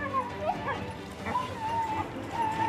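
Hunting dogs whimper and yip steadily up close as beaters ready them for a driven forest hunt in Sweden, with high whines running continuously throughout.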